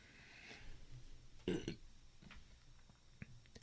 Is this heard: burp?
yes